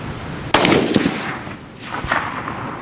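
A 350 Legend rifle shot rings out sharply outdoors, a single loud crack with a rolling echo, and a fainter pop follows a second later, with wind noise around.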